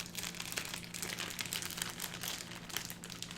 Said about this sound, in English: I always cut myself grating cheese.